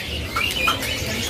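Caged birds at a bird seller's kiosk, with soft chirps, tweets and short calls scattered over a faint background murmur, fairly quiet and close, without speech.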